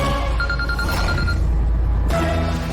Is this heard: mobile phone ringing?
yes